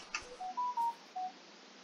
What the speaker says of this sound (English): My wife is sending me a text message.